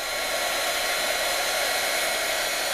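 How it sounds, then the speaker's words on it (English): A strong heat gun blows a constant, loud, steady stream of hot air to melt iced enamel powder in a craft project, with no voices. "now with this heat gun, it's pretty strong, so it may blow a little bit of this off"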